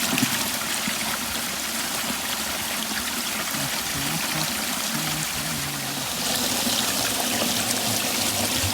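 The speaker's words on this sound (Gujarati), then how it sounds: "આપણા મોટરથી પાણી આવે છે" A steady stream of chilled well water gushes and splashes continuously from a motor pump outlet, close and fairly loud, with a low motor hum beneath it.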